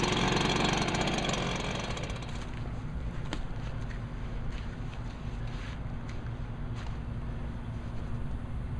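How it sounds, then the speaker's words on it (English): An Enrich Fogger sprayer engine idles steadily to warm up, a continuous low droning hum that starts louder and settles into an even, moderate rumble with occasional faint clicks. "I'm going to let it idle till it warm up."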